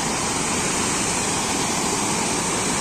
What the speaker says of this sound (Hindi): लफ्री वॉटरफॉल देख सकते हैं आप